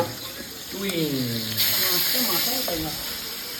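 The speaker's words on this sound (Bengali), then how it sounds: "একদম গরম গরম তেলের ভেতরে শুকনো লঙ্কা কালো জিরে চলে গেল" Dried chillies and black cumin seeds dropped into very hot oil for a Bengali tel koi fish dish give a steady hiss and crackle close by, with someone talking over it.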